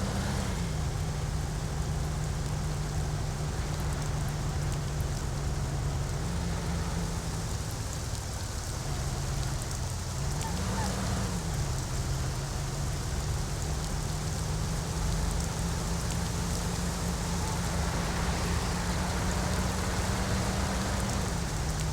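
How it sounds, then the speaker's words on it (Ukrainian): Steady rain falls on a countryside drive in Mafia: The City of Lost Heaven, a dense continuous hiss layered over a low droning car engine that rises and dips slightly throughout, with no talk. "Звичайний дощовий день."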